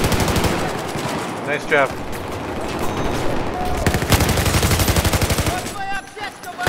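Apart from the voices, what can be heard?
MG4 machine gun fire in video game Battlefield 4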